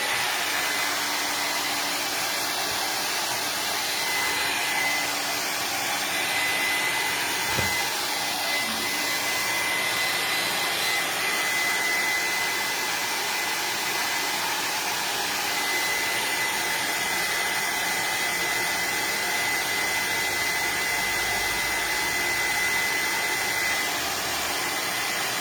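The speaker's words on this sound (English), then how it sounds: "I'm gonna quick turn the hair dryer on" A hair dryer runs steadily for the whole stretch, a loud, even airy whoosh with a faint high whine, close by and without talk.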